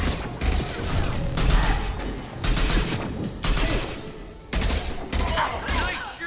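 Assault rifle gunfire in the video game Mass Effect 2, loud rapid bursts of automatic fire in repeated volleys separated by short gaps, with mechanical clicks between.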